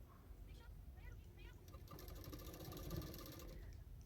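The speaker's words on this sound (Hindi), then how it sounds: "अभी उसको इस तरह से मैं फोल्ड करते हुए किनारे किनारे पे और एक सिलाई कर दूंगी" A sewing machine stitches along the folded edge of a blouse, a steady close rapid mechanical chatter that grows louder and busier midway.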